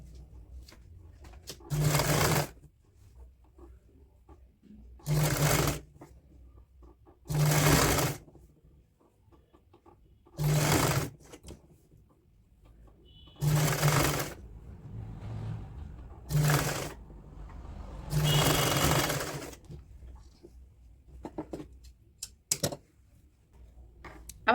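Sewing machine stitching the neckline of a woolen kurti, running in seven short, loud bursts of a few seconds each, separated by quiet pauses as the fabric is repositioned.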